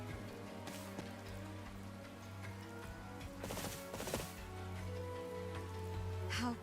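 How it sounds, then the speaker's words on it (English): Rain falls in the video game Fire Emblem Three Houses, a quiet steady patter under a low hum, with brief louder splashy bursts in the middle. "This rain."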